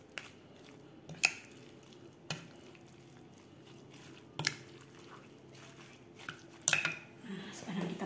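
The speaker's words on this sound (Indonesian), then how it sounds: "Kita aduk yang rata, Bun." Ingredients for botok ayam are stirred in a wok, with scattered metallic scrapes and clinks of the utensil against the pan at irregular intervals over a faint background hiss.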